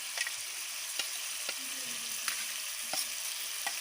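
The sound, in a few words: ginger paste frying in gravy for pumpkin kofta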